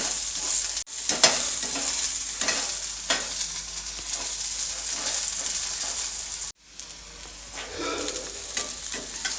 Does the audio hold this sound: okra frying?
yes